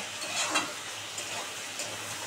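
Vegetables being stirred in a pan brimming with oil while a bhetki fish-oil chorchori cooks, giving a steady, close sizzle with a soft scrape of the stirring.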